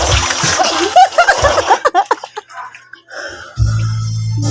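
Water splashes and sloshes in bursts inside a drum, loud and close, with a voice briefly heard between the splashes before a steady rushing noise.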